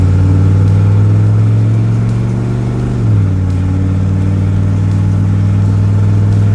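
GMC 6.5L diesel pickup with 3.42 gears pulling a load down the road, a loud steady low engine drone that drops in pitch at a gear change, then settles back into an even hum.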